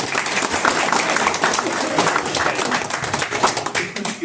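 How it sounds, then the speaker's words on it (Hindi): A crowd at a Republic Day gathering of an LIC branch team in Lucknow bursts into loud, dense applause, many hands clapping continuously and close by for the whole stretch. "सबको आप लोग अपने लिए एक बार जोरदार ताली बजाइएगा"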